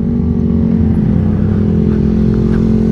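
A tall motorcycle's engine hums loudly and steadily at close range, a constant low drone with a light mechanical clatter over it and no speech.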